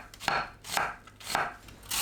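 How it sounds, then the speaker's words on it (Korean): A kitchen knife slices onion into thin strips for a kimchi salad, making four crisp, close chopping strokes at a steady pace with no voices. "양파를 채 썰어줍니다."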